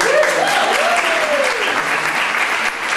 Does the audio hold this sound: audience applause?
yes